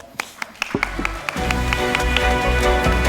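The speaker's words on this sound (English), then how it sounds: "round of applause to our guests" Applause from a conference audience thanking panel guests after a session on ESG investing, starting with scattered claps that swell into steady, dense clapping filling the room.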